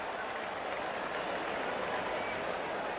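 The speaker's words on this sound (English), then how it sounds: "The crowd's gone mad at the Melbourne Cricket Ground." Large cricket crowd at the Melbourne Cricket Ground roars and applauds in a dense, continuous wash of clapping and cheering during an India versus Pakistan match, with a commentator's voice faintly mixed in.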